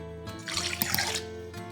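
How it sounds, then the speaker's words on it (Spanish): Half a cup of water poured onto beef fat, a brief close splash and trickle that swells and fades within a second or so. "A esto le vamos a agregar media taza de agua."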